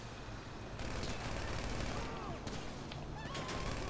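Gunfire in the video game GTA 5, rapid bursts of shots ringing out over a noisy backdrop, fairly faint and without talk.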